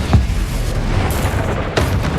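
Spell blasts from Bombarda and Confringo in the Hogwarts Legacy video game, two booming bursts about a second and a half apart over a dense, rumbling battle backdrop.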